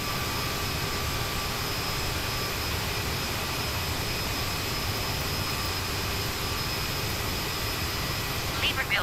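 A CRJ7 jet's engines drone in Microsoft Flight Simulator 2020 as a steady, even whine and rush that holds at a constant moderate level throughout.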